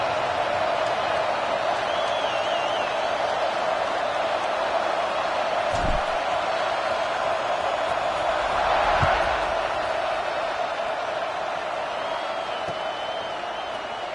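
A football stadium crowd at a Notre Dame versus Clemson game roars in a steady, broad wash of cheering during a kickoff, with occasional thumps and whistles under a commentator's voice.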